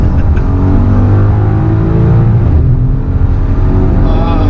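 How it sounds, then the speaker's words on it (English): A Mercedes V8 engine roars steadily and loud on a racetrack, its pitch rising and falling as it revs, with a brief dip near the end before pulling hard again. "This car, just listen to that V8 just sing."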